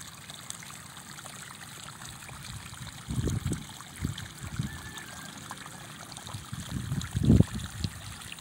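Water trickling and gurgling into a rice paddy like a spring, a faint steady flow with a few louder splashy bursts, heard close up and without talk.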